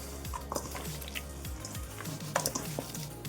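Chicken pakoda batter being stirred with chopped coriander and finely cut curry leaves, giving soft wet squelching and scraping strokes with light clinks of a utensil against the bowl, close and steady, with no voices.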